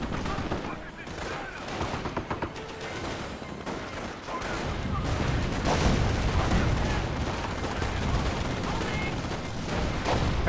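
Battle sounds from the World War II strategy game Company of Heroes: a steady stream of gunfire mixed with mortar impacts and booms, dense and continuous, swelling midway, with a commentator's voice running over the top.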